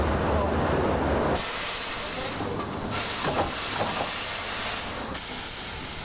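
Preserved steam locomotive Triumph hisses loudly and continuously at Sittingbourne station, a dense close roar of escaping steam that briefly drops and surges between bursts.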